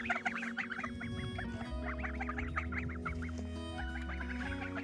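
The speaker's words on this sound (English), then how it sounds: "So, yes, we have geese now." Geese honk repeatedly in bursts, fairly close and loud, with a steady low hum underneath and brief pauses between the honking runs.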